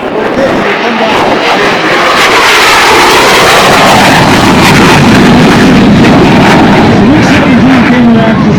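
Airplanes flying at the Wings Over Camarillo airshow, a loud continuous engine roar that swells and shifts pitch as aircraft pass, with voices talking underneath.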